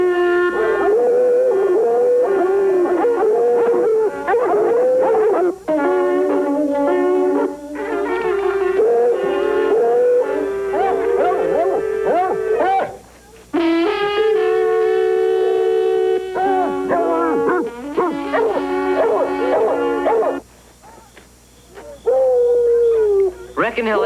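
A hound dog howls in long, wavering, loud cries that rise and fall nearly without pause, with brief gaps between them and a steady background hum.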